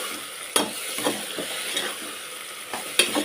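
Onions sizzling in a pan while a spoon stirs them, with sharp scraping knocks at irregular intervals over a constant close frying hiss.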